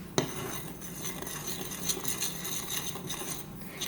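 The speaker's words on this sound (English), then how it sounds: "now we're going to stir with a spoon" A spoon stirs a homemade squishy soap mixture in a bowl, making continuous close clinks and scraping taps against the side with no talk.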